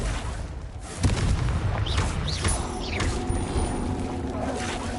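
A Confringo blasting spell detonating in Hogwarts Legacy, a sharp booming blast followed by crackling, whooshing debris and rumbling under continuous game noise for several seconds.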